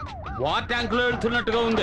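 A siren wails in a Telugu movie scene on a highway, its rising and falling tone loud and close, with someone talking over it.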